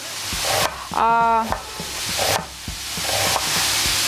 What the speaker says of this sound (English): I put the meat on the frying pan and it started to fry.